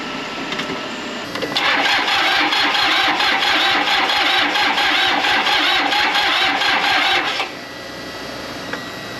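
An old engine on a homestead cranks and catches, then runs loud and steady for about six seconds before cutting back to a quieter idle, heard up close with no talking.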